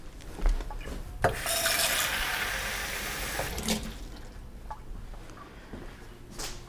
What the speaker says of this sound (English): you just pour your water